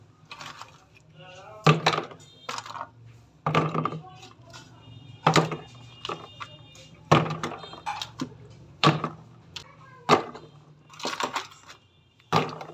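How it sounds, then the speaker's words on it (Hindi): Ice cubes dropped into strained falsa sharbat, a series of sharp hard clunks and clinks at irregular intervals, loud and close, with a low background hum throughout. "अब हम इसमें बर्फ़ शामिल कर देंगे।"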